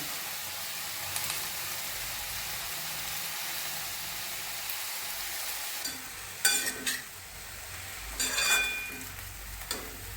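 Washed safflower leaves go into a hot pan for karadai bhaji, a steady low frying hiss followed by louder bursts of sizzle and rustling stirs as the wet greens hit the oil.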